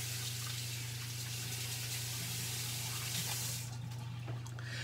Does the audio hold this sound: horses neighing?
no